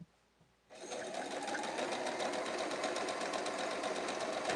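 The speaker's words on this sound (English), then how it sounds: "I'm gonna sew this." A sewing machine stitching a quilt block starts up after a brief quiet moment, then runs steadily with a fast, even mechanical whir and tapping, loud and close, with no voices.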